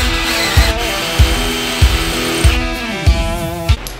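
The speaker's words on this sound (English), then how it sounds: "Who knew breeze block would be so hard to drill into?" A power drill whines steadily while grinding into breeze block, with a heavy thud roughly every half second as the bit bites, no voices.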